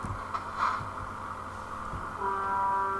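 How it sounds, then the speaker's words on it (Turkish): A truck air horn sounds in Euro Truck Simulator 2, a steady tonal blast rising late over continuous engine and road hum, fairly loud against the background. "Havalı kornam var oğlum benim."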